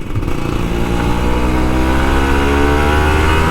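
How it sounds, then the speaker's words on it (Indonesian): An older Kawasaki Ninja RR 150 motorcycle revs hard and loud up close, its engine note climbing steadily and continuously with no pauses. "Nikmatnya bro ngegas itu pagi-pagi, nikmatnya itu sampai ubun-ubun bro."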